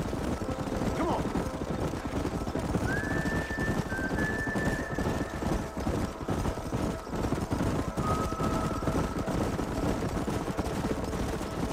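Horses gallop through a canyon in the Red Dead Redemption video game, with steady clip-clop hoofbeats under a constant outdoor bed. Brief whinny-like tones rise twice.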